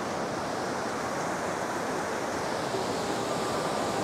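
Strong ocean waves roll in at Paniman Beach in Ternate, Cavite, a loud, continuous roar of surf with no distinct breaks and no voices over it.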